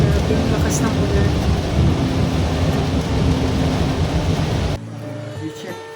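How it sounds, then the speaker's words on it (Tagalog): Heavy rain pours in a steady, dense roar, heard from inside a moving car in Da Nang, Vietnam, before cutting abruptly to a quieter interior near the end. "Grabe yung lakas ng ulan."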